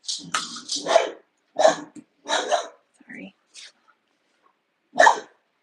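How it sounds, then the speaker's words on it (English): A dog barks loudly and close by in a series of sharp, spaced bursts, and a person briefly speaks between them. "my dog's going to start barking"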